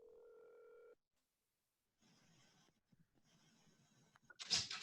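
A telephone rings faintly over a call line, a single steady electronic ring tone followed by silence and muffled handling noise before a louder burst at the end.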